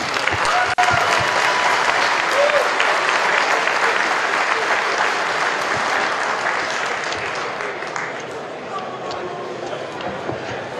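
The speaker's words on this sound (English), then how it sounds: "Let's give them a round of applause." An audience at a Day of Resistance event in Boone County, Kentucky breaks into loud, sustained applause that fills the whole stretch and tapers slightly toward the end.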